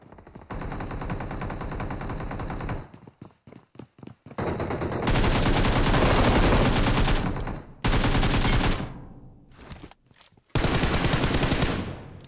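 Gunfire in the mobile battle-royale game PUBG Mobile: long, dense automatic-weapon bursts broken by brief pauses and a few quieter stretches, loud and continuous, with no voices.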